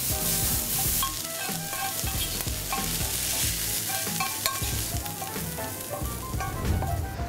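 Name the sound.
sautéing minced garlic in a pan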